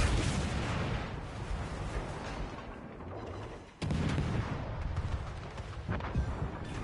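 Naval gunfire in the World of Warships Legends game, modern-era ships: heavy rumbling booms roll continuously, with a sharp new salvo about halfway through, and no voices.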